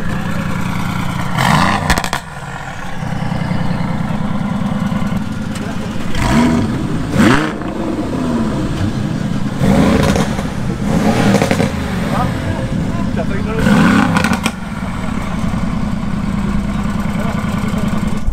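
A GTS supercar engine starts and revs at a supercar rally meet, with loud bursts of revving over a steady idle rumble and people talking nearby.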